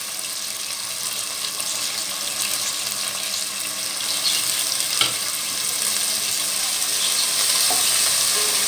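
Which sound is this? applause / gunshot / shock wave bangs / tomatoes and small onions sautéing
tomatoes and small onions sautéing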